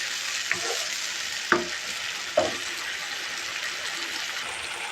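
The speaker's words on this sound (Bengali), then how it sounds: "আমার চুটকিটা ফ্রাই হয়ে আসছে" Dried loitta fish frying with garlic in a pan, giving a continuous close hiss of sizzling oil broken by three sharp spatula knocks against the pan, no voices.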